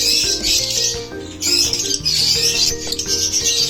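Caged birds chirp in a dense, continuous chorus of high tweets with faint wing flutters, close and steady throughout.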